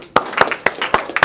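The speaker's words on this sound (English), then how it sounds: "Give him a nice round of applause." A few people in a calculus classroom clap in a short, scattered burst of about six or seven sharp, uneven claps, close and fairly loud.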